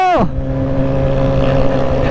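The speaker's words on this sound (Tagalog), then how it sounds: "Ang lakas ng motor ni Papa P." A motorcycle's engine drones loudly and steadily up close while riding along a road on a Batangas loop trip; the pitch drops sharply at first and then holds a constant buzzing tone.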